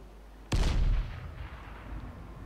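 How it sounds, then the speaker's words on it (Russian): A single grenade explosion in the Dying Light game hits with a sudden heavy blast, followed by a brief roaring rumble that fades into a lingering low tail. "Сейчас гранату кину."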